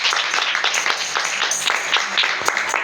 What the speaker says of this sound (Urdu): ہاں جی تو آئیں یہ تالیاں خدا کے جلال کے لیے ہم